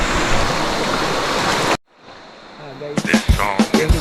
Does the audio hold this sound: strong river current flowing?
yes